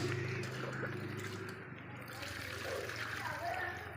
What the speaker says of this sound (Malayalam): ഈ വെള്ളം ഫുള്ള് മുങ്ങത്തക്കോണം ഒഴിക്കുക